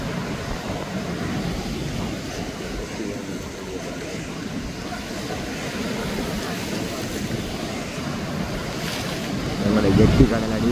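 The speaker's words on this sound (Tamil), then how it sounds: "ஜெட்டி கடல் அடி இப்படி கேட்குது" Sea waves crash against a jetty in rough, windy weather, a continuous broadband roar with wind buffeting the microphone and a heavier surge near the end.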